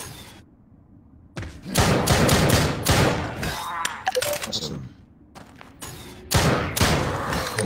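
Loud gunshots from the VR shooter Drop Dead on Oculus, a series of sharp bursts spread across several seconds with quieter gaps between them and no talk.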